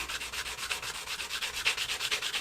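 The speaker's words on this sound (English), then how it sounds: "give it a bit of a sanding down." A sanding block is worked back and forth over the nut of a Squier Jaguar bass guitar, giving close, steady rhythmic rasping strokes with no voices.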